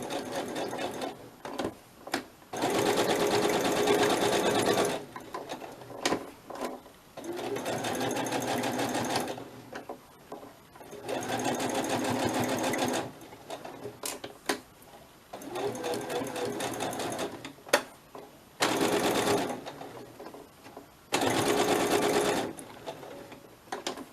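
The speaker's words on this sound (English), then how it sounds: "I'm just going to sew these little flappy bits down in here" Domestic sewing machine stitching small fabric butterfly pieces from scrap patchwork, running in several bursts of a few seconds each with pauses between, close and steady.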